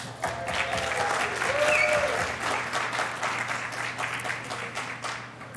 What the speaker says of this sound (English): watch you guys applaud for sin